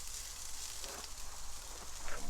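Poblano peppers and yellow onion sautéing together in a pan, a soft steady hiss of frying heard close but faint, with slight stirring movement near the end.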